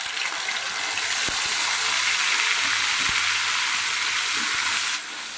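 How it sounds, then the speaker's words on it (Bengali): Ground spice paste of ginger, garlic, onion, coriander stems and chillies hits hot tempering oil, letting out a loud, steady hiss and crackle that holds for about five seconds before easing slightly. "এবার দিয়ে দেব ওই পিষে রাখা মশলাটা"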